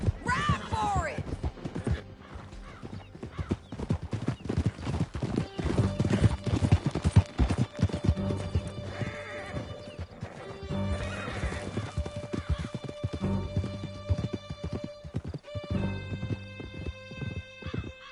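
Galloping horse hoofbeats from Red Dead Redemption 2, a steady clip-clop rhythm running the full length with occasional neighs and whinnies, loud and close over a busy backdrop of other game sounds.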